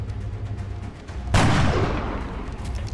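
A single sharp gunshot from the video game XCOM Enemy Within cracks out about midway, loud and sudden, followed by a long, fading boom over quiet game ambience, with no talking.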